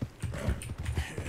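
Horse hooves clip-clop in a quick, uneven rhythm in Red Dead Redemption II, a short burst of close, moderately loud hoofbeats with no talk.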